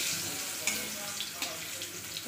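Eggplant slices frying on a hot tawa for begun bhaja, a soft continuous sizzle with a few faint clinks and stirring sounds, quiet and close.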